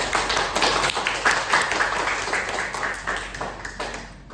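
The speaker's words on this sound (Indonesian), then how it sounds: "Tepuk tangan semuanya." A class of schoolchildren claps together in a classroom, a dense patter of hand claps that holds steady for several seconds and fades near the end.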